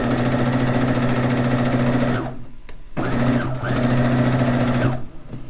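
A sewing machine stitches a quilt's first border, its motor humming in a rapid steady whir that stops briefly twice and then restarts, loud and close.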